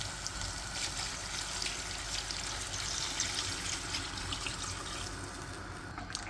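Water is poured steadily into a cooking pot of browned, roasted ingredients, a continuous close splashing stream with no talking.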